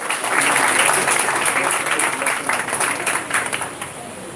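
A live audience at a Trelawny community awards event gives a round of applause, dense steady clapping from many hands throughout, fairly loud and continuous, fading slightly toward the end.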